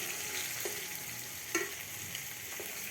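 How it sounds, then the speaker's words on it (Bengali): Pumpkin flowers fry crisp in a pan with a faint, even sizzle, broken by a few light clicks of stirring. "কড়া করে ভাজতে হবে। ভাজা আমার রেডি।"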